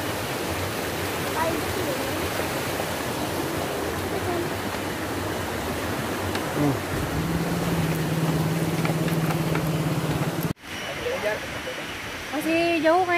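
River flowing near a hidden waterfall at Curug Cimata Indung, Sukasari: a steady broadband rush of water, joined partway by a low engine hum before an abrupt cut to a quieter section.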